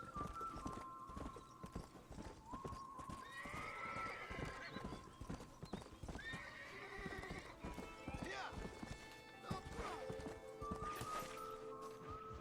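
A horse in the video game Red Dead Redemption whinnies over steady clip-clopping hooves, with a person talking throughout and other game sounds mixed in.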